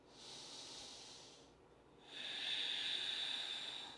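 Slow, deep breaths during a seated chair yoga session: a long hissing exhale, a brief pause, then another strong airy breath, close and alone.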